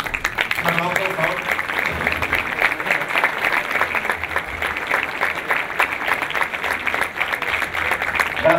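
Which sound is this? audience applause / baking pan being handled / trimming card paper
audience applause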